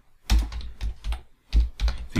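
Close, steady typing on a computer keyboard, a rapid run of soft key clicks in short bursts.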